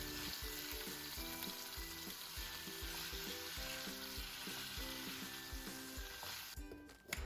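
Strips of tender beef frying in oil in a pan, a dense, continuous sizzle with steady crackle and the occasional rhythmic scrape of stirring, close up and alone.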